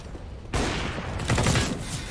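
An auto sniper rifle fires a rapid burst of loud, cracking shots in a Counter-Strike esports match, in a dense stretch of about a second and a half.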